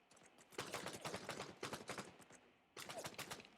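Video game gunfire in a war shooter, rapid bursts of automatic shots in two volleys separated by a brief pause, fairly quiet and heard alone.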